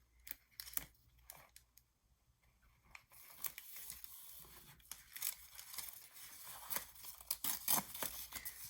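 Scissors snipping and trimming washi tape for a junk journal page at a craft desk, a few crisp intermittent cuts with light paper crinkling, close and fairly quiet.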